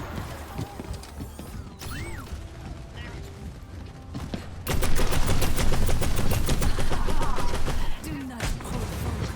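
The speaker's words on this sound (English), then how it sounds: "The weapons sound kind of cool in this thing, too" Weapon fire in the video game Overwatch 2: rapid automatic bursts and mechanical clatter sit under game effects and talk, becoming dense and loud for the second half.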